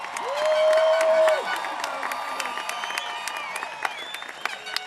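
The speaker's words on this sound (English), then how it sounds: "Let's give one more round of applause to the" Applause and cheering from a crowd at the close of a 2013 high school graduation ceremony, with steady clapping, a loud sustained whoop early on and scattered shouts mixed in.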